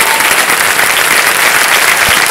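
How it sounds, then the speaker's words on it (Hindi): Loud, dense applause from the studio audience of the Kaun Banega Crorepati television quiz show, a thick continuous roar of clapping with no gaps throughout. "तालियां बज जाए इनके लिए"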